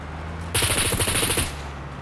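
A sharp, loud burst of rapid automatic gunfire in SCUM, about a dozen shots fired in quick succession over one second, then stopping abruptly over a low engine hum.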